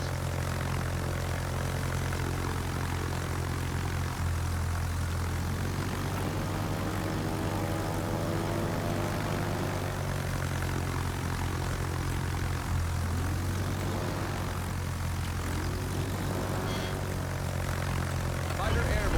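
Propeller-driven fighter aircraft in a World of Warships aircraft-carrier match drone continuously, a loud steady engine hum with rising and falling tones, under a player's talk and game voice callouts.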